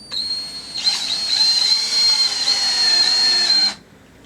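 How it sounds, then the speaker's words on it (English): A power drill drives a screw into an acoustic wall panel, giving one continuous whining whir of about three seconds. The sound is close and loud, then cuts off. "now you want to put your screws in right where your marks are"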